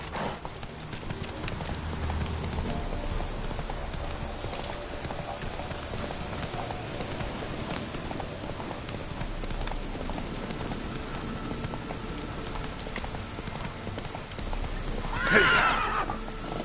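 Horse hooves clip-clopping at a steady gallop in The Witcher 3, with a whinny and neigh near the end over continuous rain-like ambience.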